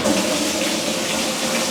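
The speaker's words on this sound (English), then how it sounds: "There's our hot water running." Hot water pouring into a top-loading washing machine drum, a steady, dense rush of running water close by, unbroken for the whole moment with no talking.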